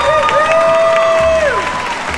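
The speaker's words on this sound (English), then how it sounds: "Round of applause for Anthony." A fan meetup crowd at MapleStory Fest 2019 applauds and cheers, a full wash of clapping with a sustained whistle-like tone rising and falling over it.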